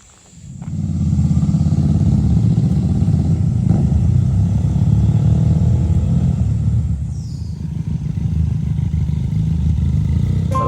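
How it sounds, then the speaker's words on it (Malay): A motorcycle on a group ride around Yong Peng gives a loud, steady engine drone at cruising speed, easing briefly midway before picking back up, with no talking. "Laju yang motor ni."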